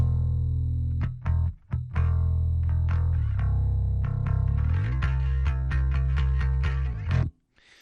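A DI bass guitar riff through a CLA bass plugin with added growl, thick and amp-like, playing choppy staccato notes before settling into a sustained, gritty low line that stops abruptly near the end.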